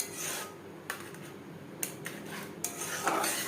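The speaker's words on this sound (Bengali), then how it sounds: "এখানে আমি লো টু মিডিয়াম ফ্লেমে 3-4 মিনিট মশলা কষিয়ে নেব।" Spices for a mustard bhetki fish curry are stirred in a pan over low to medium flame, with close scraping and rubbing strokes against the metal and a few sharper clinks, with no talking.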